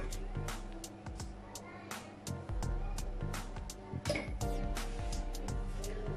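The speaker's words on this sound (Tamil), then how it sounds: "இப்போ தண்ணி ஊற்றிக்கலாம்." Water poured into a cooking pot of whole green moong dal with salt, a steady liquid splashing and trickling with a few clinks of metal, close and continuous, with faint kitchen hum underneath.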